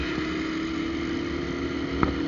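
A Shineray motorcycle engine with a hole in its exhaust drones steadily, a rough, constant rumble heard close with a brief sharp pop near the end and no talk.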